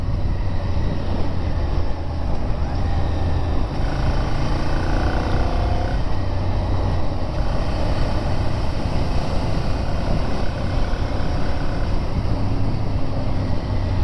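A V-twin motorcycle, a 690 or 696, ridden slowly on the Isle of Man, gives a steady, loud, continuous engine drone with wind rush throughout, no talk over it.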